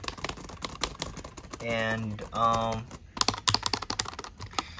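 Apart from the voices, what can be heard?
typing on ThinkPad W530 classic keyboard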